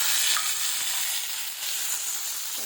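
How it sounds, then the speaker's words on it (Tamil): Tomatoes sautéing in a pan for a bitter gourd stir-fry, a soft, even sizzle and hiss that carries on steadily with no voices. "தக்காளி நல்லா வதங்கிட்டோம்."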